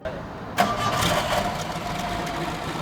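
A Mercedes-Benz 190SL engine cranks and catches after a short silence, then settles into a steady, rumbling idle up close.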